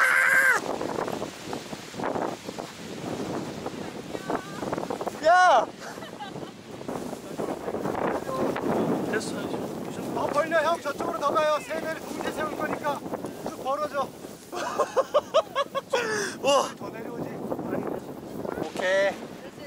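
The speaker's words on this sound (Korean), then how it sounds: "바람 왜 이렇게 불어 갑자기" Strong wind gusting outdoors at a paragliding launch site, a steady rushing roar buffeting the microphone throughout, with people talking and exclaiming over it.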